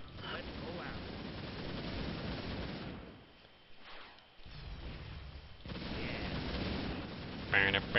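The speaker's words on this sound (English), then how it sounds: "Shooting bombs everywhere." Bombs going off in the strategy game Warcraft III The Frozen Throne, a rumbling string of blasts and gunfire-like booms that drops away briefly near the middle and then returns, with a voice talking over the game.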